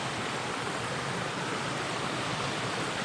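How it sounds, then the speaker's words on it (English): Small cascades tumble down a mountain trail along a spruce-lined ridge, a steady, close, full rush of falling water with no pauses and no voices. "More waterfalls up ahead"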